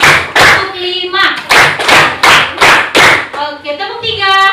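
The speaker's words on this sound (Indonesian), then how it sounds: "Tepuk 1, tepuk 2, tepuk 3, tepuk 5." A primary school class in an Indonesian school claps a counted rhythm pattern: loud, sharp bursts of hand claps in short groups, mixed with children's and a teacher's voices calling out the count.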